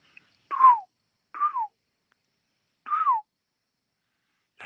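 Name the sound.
person whistling in imitation of a bird call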